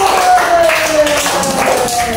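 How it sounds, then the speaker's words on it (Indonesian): Children in an elementary school classroom in Kulon Progo, Yogyakarta, clap their hands together in a loud, blurred patter, mixed with a steady tonal hum and room noise. "Tepuk tangan untuk Mas Saiful."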